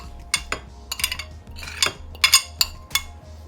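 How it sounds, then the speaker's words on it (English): A utensil mixes butter with crushed garlic and onion powder in a bowl, producing repeated clinks and scraping taps at an irregular rhythm, close and clear, with no talk. "Let's mix it nicely."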